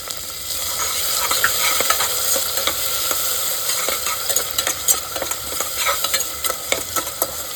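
Tomatoes stirred into a sizzling ginger, garlic and chilli paste for veg shahi biryani make a steady frying hiss, with frequent scraping stirs that grow more distinct and clacky toward the end.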